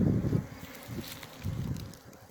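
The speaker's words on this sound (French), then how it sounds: "C'est la pleine animation, hein, donc les abeilles vont et viennent, rentrent." Honeybees buzz around their hives at an apiary on a mild, sunny afternoon near 20 degrees. A dense, fluctuating hum swells and dips as bees fly close by, with faint outdoor rustle.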